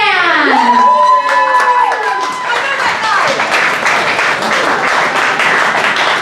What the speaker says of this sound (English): please give a huge round of applause for our penultimate poet, Zan!